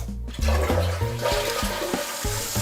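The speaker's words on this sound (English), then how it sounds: "You can see the gray water immediately rushes into the small tank, leaving no room for this float to come down" A toilet fitted with a homemade gray-water refill invention flushes, and gray water gushes loudly into a small tank in a continuous rushing roar.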